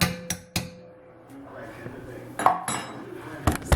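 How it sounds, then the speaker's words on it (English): A spoon clinks against a metal pot while stirring, with a few sharp knocks at the start and more scraping taps later, loud and close, as a person talks in between. "give it a little stir"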